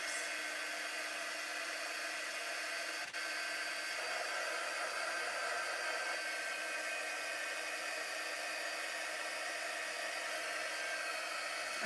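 A hair dryer blows on wet paint on a spring bunny and carrot patch painting, giving a steady close whooshing hum with a brief dip early on and no talking.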